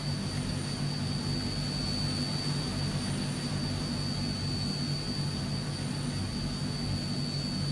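Twin turboprop engines of a Transall C160 on its takeoff roll in Microsoft Flight Simulator: a constant, loud droning roar with steady high propeller tones, continuous and unchanging with no voices.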